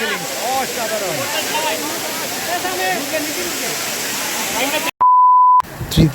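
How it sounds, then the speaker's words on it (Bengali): A large waterfall, Khaiyachhara falls in Sitakunda, pours in a steady, loud rushing roar for about five seconds before an abrupt cut to a sustained electronic beep, then a brief return of the outdoor ambience. "আমার পিছনে দেখতে পাচ্ছেন সেই ঝর্ণাটা সবচেয়ে বড় ধরনের এটা"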